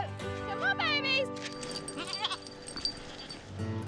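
Farm goats bleat in several short, wavering cries close by, mixed with a person speaking and some rustling movement at a rural homestead.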